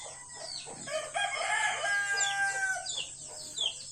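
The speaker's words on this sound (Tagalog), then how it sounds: "Iingay na yung mga sisyo, may inahin doon na nag-iingay." Chickens cluck and squawk continuously nearby, a busy chorus of hens with some rising calls layered over each other.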